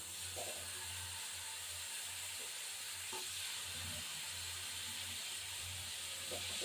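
Ingredients for a spicy rohu fish curry sizzle in a wok, a steady broadband hiss of frying that runs the whole time at an even level, with a low hum underneath and a few faint utensil knocks.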